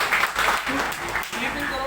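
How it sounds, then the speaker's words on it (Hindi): Students in a phone repair lecture class clap together in a short burst. The applause is dense and fairly loud, with talk underneath. "तो इनके लिए एक क्लैपिंग हो जाए, तालियां हो जाए इनके लिए"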